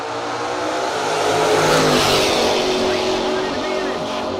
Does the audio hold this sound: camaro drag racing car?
yes